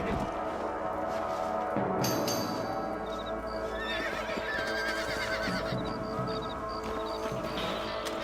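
A horse whinnies and neighs in the Red Dead Redemption video game, loud and close over a busy bed of game ambience, with hoof clip-clops and scattered bright effect tones through the scene.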